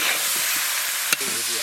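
Spiced minced meat frying in a pan, a steady close broadband sizzle with faint stirring scrapes and one brief sharp clatter near the end.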